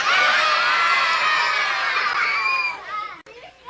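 A live comedy audience erupts in loud, sustained cheering and excited shouting that fades toward the end, with a sharp click near the close.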